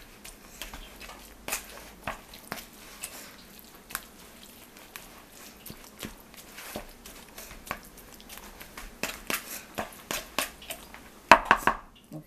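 Canned salmon mashed with a fork in a bowl for salmon croquettes, with soft scattered scrapes and light clinks of metal against the bowl, faint and irregular, and a sharper cluster of taps near the end.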